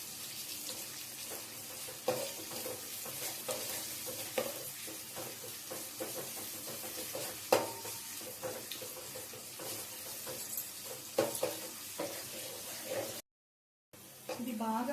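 Onions fry in a pan for khichdi and are stirred until golden, with a steady close sizzle broken by repeated scraping and clanking strokes of the spoon and a brief silent gap near the end.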